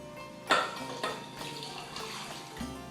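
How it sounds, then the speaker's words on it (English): Water poured into a pot of okra stew in a home kitchen, a splashing onset followed by a steady running pour with a brief clink of the pot, close and fairly quiet with no talking. "you basically are just going to cover it with enough water"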